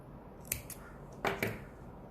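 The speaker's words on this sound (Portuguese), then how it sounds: "Vamos fazer aqui um baixíssimo aqui e vamos cortar a linha" Scissors snip through crochet yarn while finishing an amigurumi frog piece, giving two or three quick, crisp close-up cuts with a short pause between them against a quiet background.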